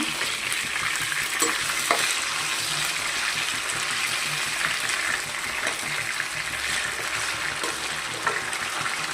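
Masala spices sizzle and fry steadily in a pan for chicken kabab, a continuous crackling hiss with light stirring clicks, close and even throughout, no talking.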